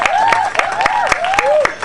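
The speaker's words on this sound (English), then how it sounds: "Number 7, the crowd response for that." Crowd at the Nimbin MardGrass rally and parade applauding float number 7, a dense rapid clapping with whistles and whoops rising over it, loud and close for the whole stretch.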